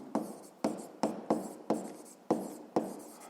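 A pen writing on paper in a physics lesson, seven sharp, evenly spaced strokes, each with a short scratching tail, close and clear with no talk.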